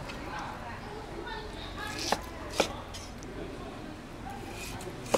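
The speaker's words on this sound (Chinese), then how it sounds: "还要改刀的哦，大块大块的哦，切起来" Pork being cut into large chunks on a board by a home cook, with a few sharp knife chops standing out over a quiet, steady background.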